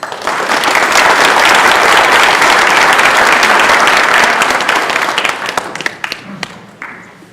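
An audience at a retired educators' candidate forum in Oklahoma breaks into loud, sustained applause that fills the room, then thins into scattered claps and fades out near the end.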